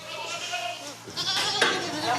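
A young billy goat bleats on a farm just before a bottle feeding, a wavering cry partly buried under close talking and background bustle.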